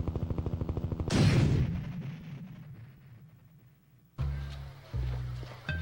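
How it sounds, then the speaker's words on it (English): Gunfire in the Sega Saturn game Elevator Action Returns, with bullets ricocheting off walls: a rapid burst of shots, then a loud blast that fades, followed by two more heavy, punchy shot sounds under game music. "when you shoot the walls and your bullets ricochet off the wall and you see the little smoke mark"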